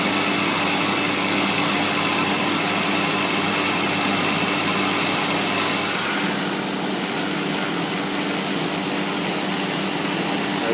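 A CNC router cutting scrap stock through into the spoil board makes a loud, steady high whine with a sustained tone, even and unbroken from start to finish.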